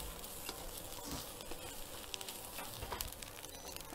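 Fried rice with fermented pork and mushrooms sizzles steadily over high heat in a pan, a continuous dense hiss at a low level with no talking.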